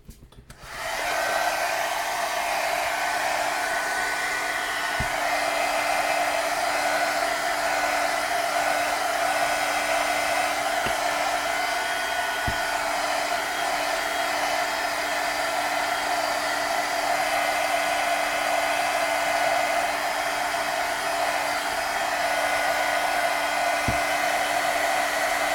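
A hair dryer blows steadily on wet paint, a loud constant whooshing hum that starts abruptly and runs unbroken for the whole stretch at close range, with no talking.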